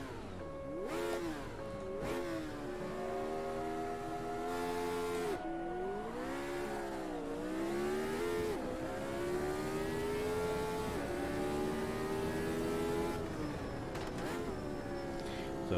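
An M23 Formula Retro race car engine at the Brasilia circuit in the Automobilista 2 racing game, revving loudly and continuously, its pitch rising and dropping through repeated gear changes over the whole stretch.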